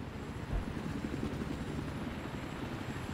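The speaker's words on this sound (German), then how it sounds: "zum Abschluss kann man ruhig noch hier ein bisschen Hubschrauber fliegen." A helicopter in the Battlefield 3 multiplayer match on PS3 on the Damavand Peak map, its steady rotor thrum and engine rumble loud and continuous, with a brief low thump near the start and no talk.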